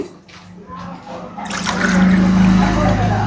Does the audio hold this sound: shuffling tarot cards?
no